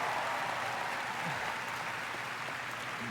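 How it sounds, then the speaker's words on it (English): A large crowd applauds continuously at The Game Awards 2024, a moderately distant, even roar of clapping that holds steady from start to finish. "So please, a round of applause for them."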